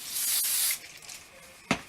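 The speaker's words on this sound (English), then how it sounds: "you want to use a light hand when you're spraying hairspray into your hair" A single sustained hiss of an aerosol hairspray sprayed into the hair roots for most of a second, then a short second puff, close by with no talking.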